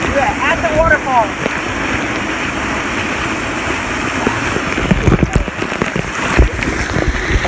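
Rushing water from a waterfall with a strong current pours in a loud, constant roar, broad and close, while a few voices and brief whistle-like calls rise faintly over the torrent near the start.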